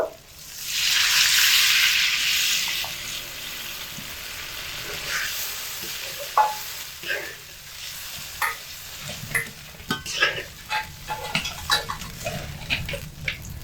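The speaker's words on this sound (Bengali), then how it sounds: "তো এবার এর মধ্যে পোস্ত বাটার জল দিয়ে দেব।" Poppy seed paste water is poured over spices already fried for an eggplant malai curry, setting off a loud, bright sizzling burst that settles into steady simmering with scattered stirring scrapes and clinks, no talking.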